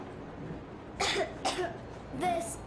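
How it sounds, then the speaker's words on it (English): A girl in a Metro Exodus cutscene coughs three times in quick bursts, close and fairly loud, with short pauses between. "I have this cough."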